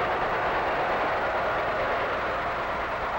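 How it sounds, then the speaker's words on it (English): The Tokyo Express train passing in 1940, a steady, loud broadband rumble and rush of rolling rail cars that holds unchanged throughout, with no distinct whistle standing out. "suddenly, in the distance, the whistle of the Tokyo Express."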